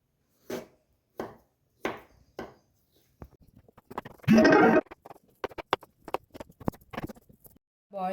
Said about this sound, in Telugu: ఇప్పుడు వీటిని కూడా చిన్న చిన్న పీసెస్లా కట్ చేసుకుందాం